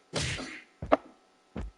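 Punchy hit sound effects from the PS5 game Dreams, three separate whacking impacts, the first broad and booming, the next sharper, the last a short thump.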